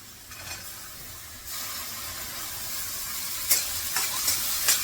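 Washed field beans (pavta) drop into a hot frying pan for a dry vegetable dish, setting off a louder steady sizzle, with a few sharp scraping stirs near the end and no talking.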